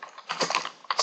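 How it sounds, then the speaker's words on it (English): Keys on a computer keyboard tap out a short typed word in a quick burst of close, crisp clicks with an uneven rhythm. "I'm going to type in the word shoe"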